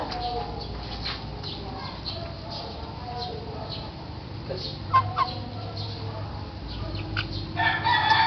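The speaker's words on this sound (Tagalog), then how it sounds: "Takot na takot yung manok, hindi makagalaw eh." A frightened chicken, held near a python at feeding time, gives scattered clucks and squawks over a busy outdoor background, with a couple of sharper cries standing out.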